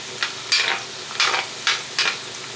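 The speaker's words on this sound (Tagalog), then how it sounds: "Ilalagay na natin ang ating bawang at sibuyas." Garlic and onion sauté in a pan under a low, steady sizzle, broken by a few bright bursts of stirring scrapes at regular intervals.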